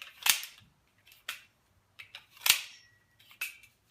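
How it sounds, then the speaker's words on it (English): Magazine dropping out of a Kahr CT45 pistol: a few sharp metallic clicks and clacks, close and fairly quiet, spaced irregularly with short silences between. "See how well it drops mags now."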